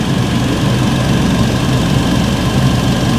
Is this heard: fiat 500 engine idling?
yes